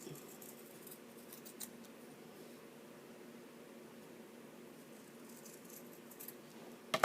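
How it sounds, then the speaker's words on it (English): Scissors cutting fabric for a shabby chic fabric heart, trimming the top into a rounder shape; faint, soft snipping and rustling close by over a quiet room hiss, with no talking. "I'm going to cut that also a little bit"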